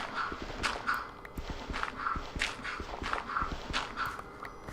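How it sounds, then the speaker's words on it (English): Footsteps in the block-building survival game TerraFirmaCraft, a steady run of soft, fairly close treads repeating about twice a second over a busy ambient bed, with no talk. "Could swear I heard footsteps that were not mine."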